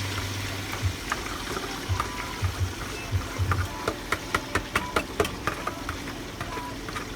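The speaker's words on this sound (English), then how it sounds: "So that means it's about time to pour the steamed tomatoes." Steamed tomatoes are poured into hot groundnut oil for a chicken stew, giving a wet pouring and splashing sound followed by a run of quick crackling spits and pops, close up with a low background hum.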